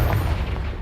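A short, heavy blast from the Confringo explosive spell in Hogwarts Legacy, one close, loud boom with a low rumbling body that fades slightly within a second.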